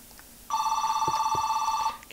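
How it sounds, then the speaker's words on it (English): A phone rings with a single loud electronic trill held for about a second and a half, close and clear over quiet background noise. "I had to take that important phone call."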